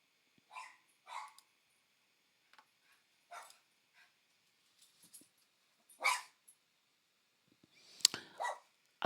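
A puppy yips and barks in several short, sharp bursts scattered across the stretch, fairly close indoors, with quiet gaps between them and no talk.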